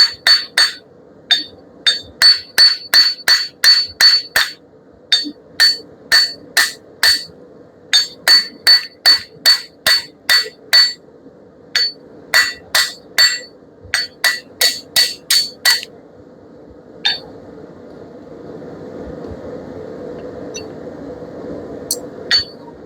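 Steel hammer blows on hot steel at an anvil while tapering a decorative fire poker, struck in quick rhythmic bursts of ringing hits with short pauses, close and loud, ending in a softer scraping, rustling stretch.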